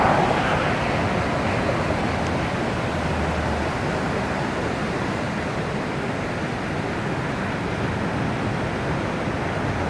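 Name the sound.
ocean waves breaking at Rincon beach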